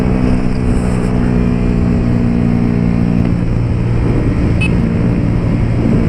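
Honda Titan 150 motorcycle with a Pro Tork exhaust, running loud and close with a steady throaty drone that shifts in pitch midway as the throttle changes.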